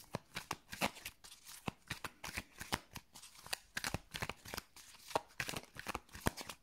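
Tarot cards being shuffled and cut, a fast run of crisp riffling flicks and slaps with steady rhythm, close and fairly quiet, no talking.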